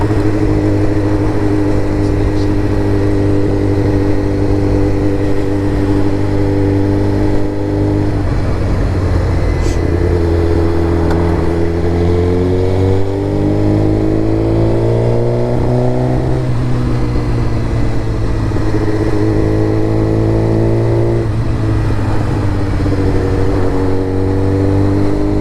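Suzuki GSX-R 1000 motorcycle fitted with an M4 MC-36 full exhaust, running loud and steady with a deep rumble, the engine pitch swelling and falling in a few rev changes across the whole stretch.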